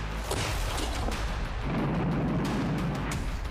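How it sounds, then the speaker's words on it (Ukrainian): A deep, heavy boom of artillery fire rumbles with a dense, noisy roar that fills the whole stretch, loud and sustained. "Гармата!"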